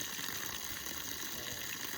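Water gushes steadily out of a pipe, a continuous close rushing flow that fills the whole moment without pause.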